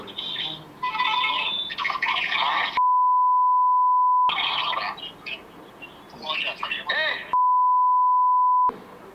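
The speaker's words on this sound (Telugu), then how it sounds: "ఎక్కువ అన్ని బీపులు వేసారంటేనే అర్థమవుతుంది అందులో వల్గర్ లాంగ్వేజ్ ఉంది" Censor beeps masking vulgar language in a heated debate, two long steady tones each lasting over a second, cutting in between stretches of agitated talking voices.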